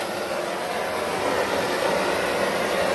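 A kitchen butane torch burns steadily to smoke a mezcal margarita, a continuous loud broadband hiss and roar holding even for the whole stretch with no talking.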